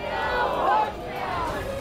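Left party protesters shout slogans together at Mandi House in Delhi, a short burst of massed chanting voices in an open-air crowd.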